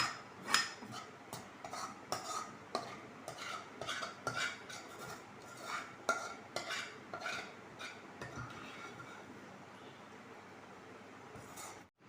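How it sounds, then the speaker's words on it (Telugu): Roselle (gongura) pulihora mixture being mixed into cooked rice for Andhra-style pulihora, heard as steady scraping and clinking of a spoon against a pot, with repeated sharp taps over about twelve seconds, close and fairly quiet. "ఇదంతా కూడా ఈ విధంగా ఈ రైస్ మీద వేసుకున్నాక ఈ విధంగా కలుపుకోవాలన్నమాట"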